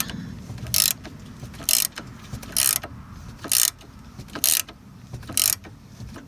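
A ratchet is used while loosening a sway bar link nut during front strut work on a 2007 Chrysler Town & Country, giving seven short, sharp clicking bursts at a regular pace, close up, with no talk.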